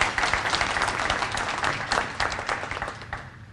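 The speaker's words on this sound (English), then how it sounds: "So we can give them another round of applause for what a great job they're doing." Audience applause at a State of the Economy address in Bowie, Prince George's County: a steady, dense wash of clapping from a crowd that thins toward the end, with no talking.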